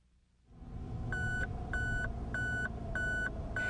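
A Mazda RX-8 engine starts up, then its tire pressure warning sounds as a series of short, evenly spaced electronic beeps repeating over the low engine hum.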